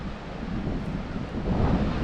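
Sea waves at Sidi Ifni surge and wash in a steady, low roar, mixed with wind buffeting the microphone, moderately quiet and building slightly toward the end, with no voices.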